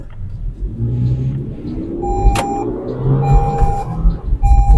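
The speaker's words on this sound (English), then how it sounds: "This is Toyota Land Cruiser." A 2019 Toyota Land Cruiser Prado on a test drive gives a steady low engine rumble with rising and easing revs, heard from inside the cabin, with a few faint beeping tones over it.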